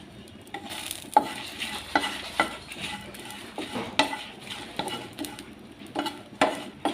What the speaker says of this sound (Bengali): তারপর আমি চিংড়ি মাছগুলো ভেজে নেব